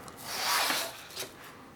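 A cheap ruling pen blade is rubbed across wet and dry sandpaper, giving a soft, close scraping stroke that swells and fades, followed by a shorter second rub.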